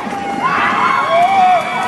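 At a roller derby bout, a crowd cheers for the LA Derby Dolls, a short swell of shouts and whoops rising together in a busy arena.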